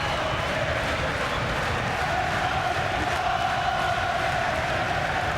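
A boxing crowd at a light heavyweight bout between Nathan Cleverly and Karo Murat roars in a steady, dense wash of cheering that never lets up.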